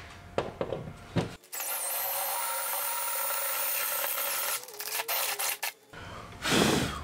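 A power-driven faux chisel bit cuts a half inch hole with a steady, loud grinding whine that holds for several seconds, framed by short clunks and handling noise before and after.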